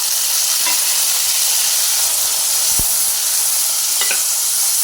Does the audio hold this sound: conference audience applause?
no